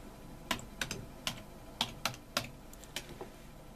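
Keys clacking on a computer keyboard as text is typed, about a dozen separate sharp taps in an uneven rhythm, close and fairly quiet, with no speech.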